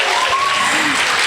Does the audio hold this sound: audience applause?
yes